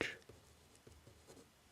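Pen or marker writing words onto a paper map outline of Washington State, soft close scratchy strokes in a few short bursts, quiet and intimate.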